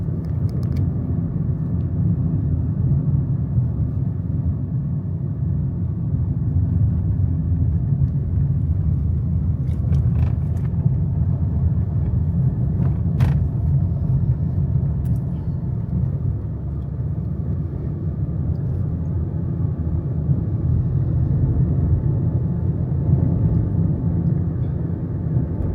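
Car driving along Junk Hole Road, a backroad in Anguilla, a steady low rumble of engine and tires heard from inside the vehicle, constant with a few faint clicks and bumps.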